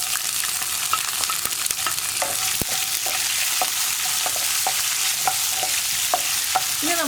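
Mustard seeds spluttering and urad dal balls frying in hot oil while making kozhukkatta, a steady close sizzle broken by frequent sharp pops and crackles throughout, with no talking.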